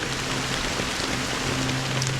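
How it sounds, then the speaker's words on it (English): Steady rain falls across a dreamlike city in Honkai: Star Rail's Penacony, a dense, even patter of drops on hard surfaces with a faint low tonal hum beneath, continuous and close throughout with no voices. "it's still raining."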